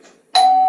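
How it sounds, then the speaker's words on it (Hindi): A doorbell rings once after a short quiet pause, a bright sustained chime that starts suddenly and rings on clearly without fading. "यही सोचते सोचते उसकी उंगली वकील के घर की डोरबेल की तरफ बढ़ गई।"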